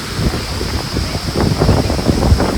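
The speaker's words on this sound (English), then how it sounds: "it's just a very windy couple of days" Strong winter wind gusts roar steadily against the microphone outdoors by garden ponds, with low rumbling buffets rising and falling throughout.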